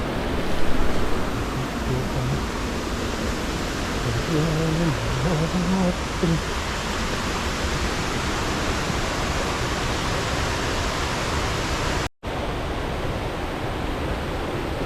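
A waterfall at Vazhvanthol roars in a forest during rain, a steady, loud broadband rush of water that fills the whole scene, with faint voices briefly audible beneath it early on.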